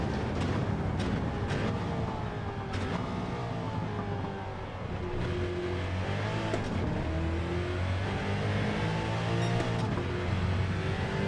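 A Porsche 917 race car engine in Gran Turismo 7 roars loud and steady at high revs, with gear shifts and pitch swings along the long straight at Le Mans.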